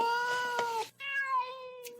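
A house cat meows twice in quick succession, close and clear, each call tonal and slightly drawn out with a short gap between them.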